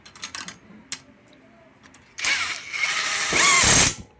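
A tool tightens bolts on a Suzuki Raider Fi150 cylinder head: a few faint clicks, then a loud mechanical whirring burst lasting about two seconds that rises before cutting off.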